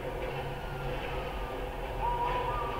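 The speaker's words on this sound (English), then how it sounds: "there's a train coming" A train in the GTA 5 video game rumbles past as a dense, steady low roar with a faint rising squeal near the end, heard alone.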